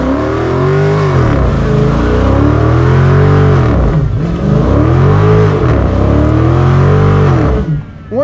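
A 2023 Dodge Charger Super Bee's loud engine revs hard and holds high, rising and falling in pitch for several seconds, with a rough roar of rear tires spinning in a burnout underneath.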